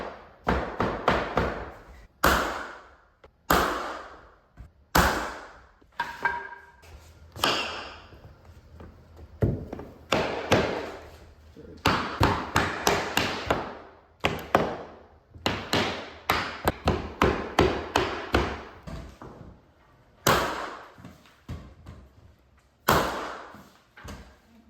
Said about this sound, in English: hit it with a hammer, and it will drive your fastener in through the tongue and also scoot your board back